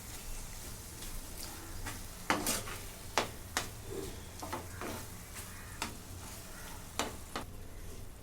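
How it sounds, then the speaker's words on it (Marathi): Egg curry mixture frying in a pan and being stirred, a soft sizzle under repeated scraping strokes of a spoon at an uneven rhythm, close but quiet, with no voices. "भाजून ते टाकून घेते सगळं मिक्स करून घेते"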